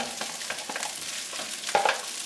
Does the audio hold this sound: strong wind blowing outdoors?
no